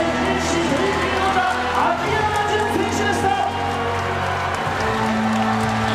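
Crowd at a 2001 pro wrestling event, Jun Akiyama versus Mitsuharu Misawa, clapping and murmuring in a steady, dense wash under a commentator's talk.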